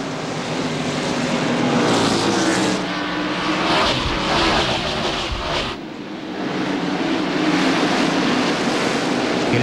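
Stock cars in the 1996 NASCAR Winston Cup Food City 500 at Bristol International Raceway roar past in a dense, continuous engine wash, with a brief dip in loudness midway before the pack noise swells again.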